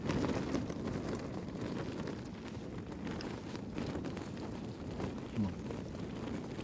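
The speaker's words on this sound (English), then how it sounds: "There's a wind coming." Wind gusting across an exposed Brecon Beacons escarpment in winter, a steady low rumbling buffet against the microphone with a few stronger surges, continuous and fairly loud with no voices.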